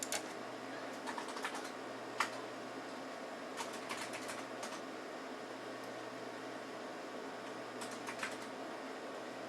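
Light typing on a computer keyboard while entering contact information into an online registration form: scattered, quiet key clicks in short irregular bursts over a steady faint hum.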